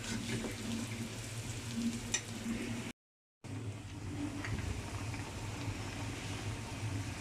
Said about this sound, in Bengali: তো আমি মাছ ভাজা শেষ করে এখানে পেঁয়াজ লাল করছি